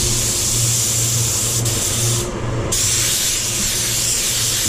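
SATA spray gun laying a control coat of paint on a Range Rover Velar, a continuous close airy hiss with a brief pause midway, alongside a low droning hum in the background.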